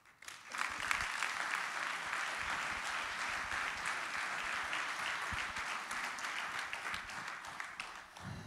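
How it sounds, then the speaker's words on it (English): Audience at a church celebration event gives a round of applause, a broad, even wash of many hands clapping that swells quickly, holds steady for several seconds and begins to fade at the end. "And so if you could give a round of applause to Stephanie."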